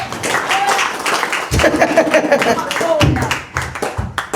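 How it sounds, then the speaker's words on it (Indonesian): A church congregation claps during a sermon in bursts of moderate applause, rising and falling with brief pauses, while voices and a little laughter come through underneath. "Mana tepuk tangannya kok kurang?"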